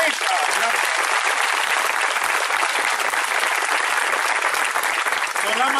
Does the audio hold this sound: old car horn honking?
no